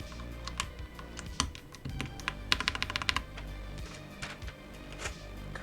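Typing on a Mode Sonnet mechanical keyboard, a close, quiet stream of clacky keystrokes with a brief rapid flurry in the middle, and no talking.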